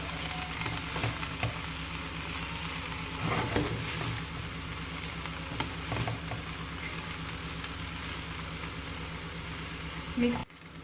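Rice being mixed and fried in a pan for chicken egg fried rice, a steady low sizzle with soft stirring scrapes throughout and one sharp clack near the end.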